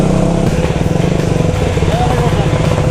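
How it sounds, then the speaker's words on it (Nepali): A 150cc motorbike carrying three riders labours up a rough, steep road, its engine pulsing loudly with a throbbing low rumble, close to the microphone, while voices talk over it. "कसरी तान्छ यार बाइकले 3 जना"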